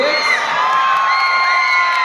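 Supporters in a pageant audience cheer for their candidate at a Mr and Ms contest: loud, sustained crowd yelling, whooping and high shrieks blending into one continuous roar, with no break.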